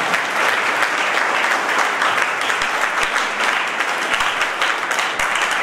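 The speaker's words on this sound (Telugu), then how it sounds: "కాబట్టి సార్కి మీ అందరి చప్పట్ల ద్వారా ఆహ్వానిస్తుంది." An audience at the opening of an IIT-JEE Advanced and NEET coaching academy applauds to welcome a guest, a sustained, even wave of clapping with a few sharper claps standing out.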